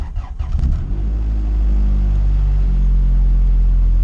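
A Honda CRX with a B20 VTEC engine running on E85 fuel cranks briefly and fires, then settles into a loud, steady close-up idle.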